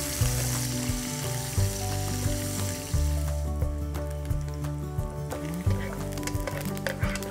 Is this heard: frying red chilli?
yes